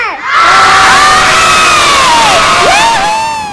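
A crowd of schoolchildren yells a school cheer in unison, one loud sustained shout with rising and falling voices, close and filling the space for a few seconds.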